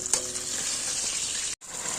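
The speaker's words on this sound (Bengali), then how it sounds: "দেখো এখানে আলু ভাজছি" Potatoes frying in oil give off a loud, continuous sizzle, with a small clatter near the start and a momentary break near the end.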